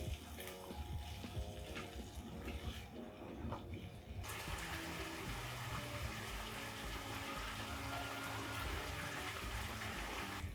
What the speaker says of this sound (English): just add a little bit of water so that everything can cook through